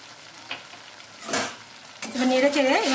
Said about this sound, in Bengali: ভালো মতন কষিয়ে নেব সব মশলা